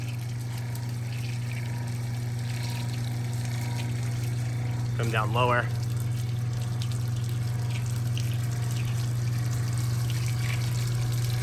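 Steady rushing water sprays across a ceramic-coated panel, a constant hiss with a low pump-like hum underneath; a voice briefly speaks midway.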